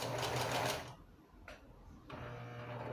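Sewing machine stitching the side seam of a baby look T-shirt, a fast close whirring run that stops briefly and then resumes, fairly quiet overall.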